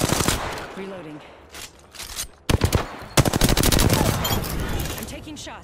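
Apex Legends gunfire on PS4 with Wraith: sharp shots, then a pause, then a rapid burst of automatic fire, loud and close, with game voice lines in between.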